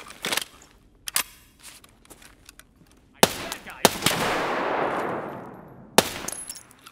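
Gunfire from enemies in a first-person shooter, while raiding and farming: a handful of sharp shots and short bursts, one loud blast trailing into a long, decaying rumble, with brief clicks between.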